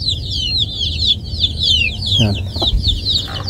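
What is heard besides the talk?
chickens clucking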